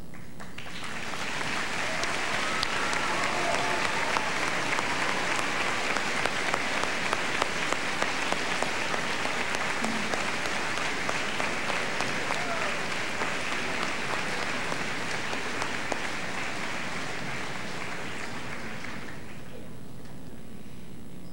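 Graduates at the Chaska High School 2002 graduation ceremony applauding their parents, a long sustained wave of clapping from a large crowd in a big hall that builds, holds for many seconds, then fades out.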